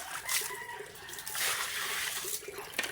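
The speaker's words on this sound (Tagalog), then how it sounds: "Lagyan natin ng tubig mga kababoy." Water pours steadily into a container for pigs on a farm, a close, hissing splashing stream with slight surges in strength.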